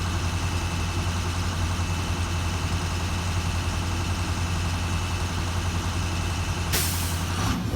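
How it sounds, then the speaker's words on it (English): A truck's air brake system sits at maximum pressure during an in-cab inspection, with a steady loud engine idle throughout. A sharp burst of hissing air-release sound rises near the end. "Inspector, I'm at my maximum air pressure. You just heard that psst, right?"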